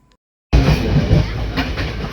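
A moving passenger train bursts in after a moment of silence, with a loud, close, continuous rumble and rattling clatter of the carriages.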